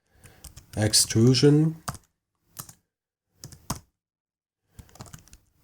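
Typing a layer name on a computer keyboard in Photoshop, heard as short clusters of crisp key clicks separated by pauses, following a brief stretch of speech near the start.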